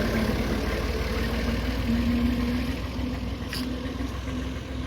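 A tractor engine idles and runs steadily in a village setting, a continuous low, even drone with a faint tonal hum, close by and alone with no talk.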